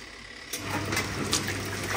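A portable washing machine loaded with dirty dusters, water and detergent switches on and settles into a steady low motor hum with faint sloshing, fairly quiet and close.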